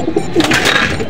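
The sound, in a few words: racing pigeon cooing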